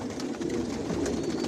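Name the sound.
pigeons cooing in loft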